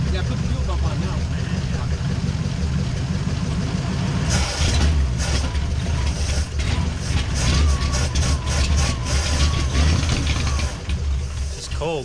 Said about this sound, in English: Just let it idle. Get the motor hot so it evaporates the water.